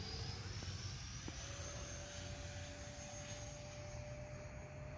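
An F-15 jet performs a touch-and-go landing, its engine roar a steady broad rumble with a rising whine, heard from a distance with no talk.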